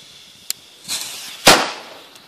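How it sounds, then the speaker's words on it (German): A Ninja Cracker D-Böller firecracker, a German banger with a glued back and clay-plugged front, goes off in one sharp, loud blast that decays quickly, after a faint earlier pop and a brief fizz. "Ninja Cracker Cover, D-Böller"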